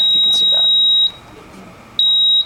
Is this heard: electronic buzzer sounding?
yes